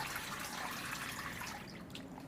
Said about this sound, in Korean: 간장물을 완전히 쭉 빼주셔야 됩니다